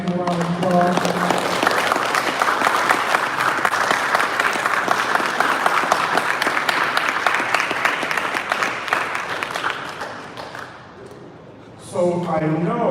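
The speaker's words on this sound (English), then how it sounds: "give him a round of applause." Audience applause at a Detroit City Chess Club event with a grandmaster: a full, steady round of clapping that gradually fades, with someone talking briefly before it starts and again once it dies away.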